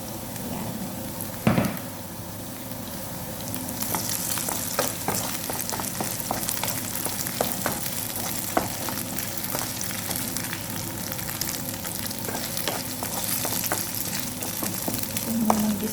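Onion and chicken sauté in a hot pan, a continuous close sizzle broken by scattered clicks and scrapes of stirring, with one sharp knock near the start.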